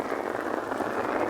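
Heavy rain pours steadily in Mandahol during a severe downpour, a dense, continuous hiss of drops hitting surfaces, close and even throughout with no voices.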